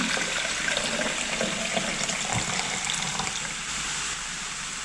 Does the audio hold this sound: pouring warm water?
yes